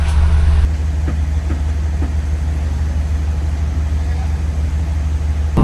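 Steady low rumble of a sleeper train running overnight from Chiang Mai to Bangkok, heard from inside an air-conditioned carriage, with a continuous droning hum and faint knocks throughout.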